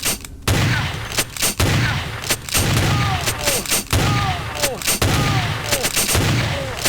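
Shotgun blasts from a player character in the vampire game VTMB Final Nights mod, loud and close, fired in a quick irregular series of about eight heavy booming shots with short gaps between them.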